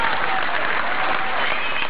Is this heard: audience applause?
yes